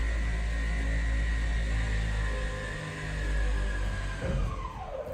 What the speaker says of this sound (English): I'm so sorry for the construction noise